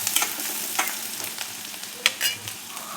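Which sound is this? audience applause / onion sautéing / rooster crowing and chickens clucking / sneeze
onion sautéing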